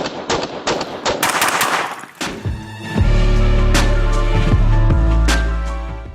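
A 4.6 caliber pistol fires a rapid string of loud, close shots that ring out, the firing overlapping with a sustained heavy rumble in the latter half.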